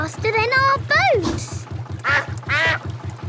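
Cartoon duck quacking in a series of bright, nasal calls during a boat race on water, loud and close, with a steady low engine-like chug running underneath throughout.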